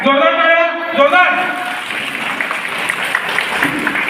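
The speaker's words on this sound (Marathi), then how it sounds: "चला जोरदार टाळ्या" Audience clapping at a village event in Sarvatirth Taked, a New Home Minister program with a misal party. A voice speaks over a hall sound at first, then dense, steady applause fills the rest at moderate loudness.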